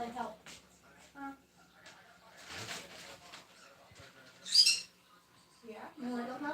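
A pet bird calls in a quiet room, with one sharp, loud chirp standing out amid soft cooing and quiet talking.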